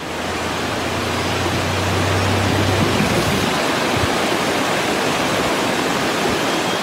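A waterfall swollen after more than an hour of heavy rain in hill villages roars as a loud, dense, unbroken rush of water, close and steady throughout.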